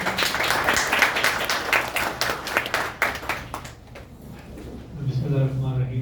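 Audience applause at a spiritual-evening book launch at the Qasim Ali Shah Foundation: dense, sustained clapping from a seated crowd that fades out after a few seconds, followed by a voice speaking.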